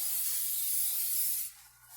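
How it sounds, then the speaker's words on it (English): Cooking spray hissed onto a pan before cinnamon roll dough goes in, a steady close spray lasting about a second and a half that cuts off abruptly, leaving faint room noise. "we're gonna spray it quite a bit"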